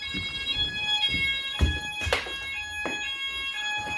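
A building fire alarm sounds during a system test, a steady, loud electronic tone with sharp harmonic overtones holding throughout, with some background handling noise and a few bursts of broadband noise.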